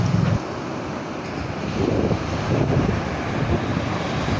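Strong wind and rough ocean waves at a shore during shrimp netting, loud broadband roar of wind buffeting the microphone over surging surf, continuous with swelling gusts and no talk.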